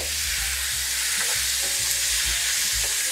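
Pork chops with pineapple and garlic being stirred in a hot pan, a steady sizzle with soft scraping strokes of the spoon repeating under the frying, close and alone.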